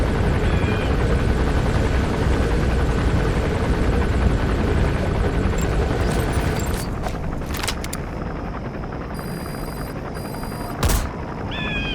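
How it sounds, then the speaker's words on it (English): A helicopter in Metal Gear Solid V comes in to land, its steady rotor roar loud and continuous before easing slightly, with a couple of sharp bangs near the end. "There's a chopper landing."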